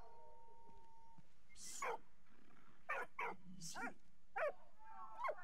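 Dog barking and yipping in the World War I video game Valiant Hearts, several short, sharp barks spaced irregularly over a quiet background hum, fairly faint.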